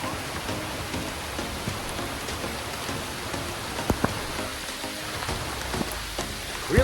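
Rain falling at a beach in the Philippines, a steady hiss of drops with a few louder close spatters and taps, no talk.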